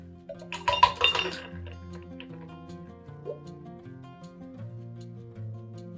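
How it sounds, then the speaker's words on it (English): Ingredients are tipped out into a glass with a quick cluster of bright clinks and rattles, then the sound settles into quiet room tone with faint low hum. "Next we take our glass and just dump."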